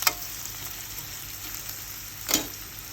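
Sage leaves gently frying in a pan on low heat, a soft continuous sizzle with a couple of brief sharper crackles, fairly quiet and alone.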